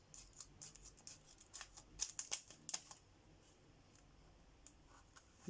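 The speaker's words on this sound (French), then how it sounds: "Ben, je vais prendre des ciseaux, hein." Small scissors snipping open a package in a quick cluster of sharp crisp cuts, close up, then quiet handling noise.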